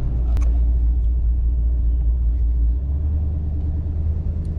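A modified, cammed 5.7 Hemi R/T launches on a 0-60 run, its deep engine rumble loud and close, with a sharp knock early and the roar easing slightly partway through.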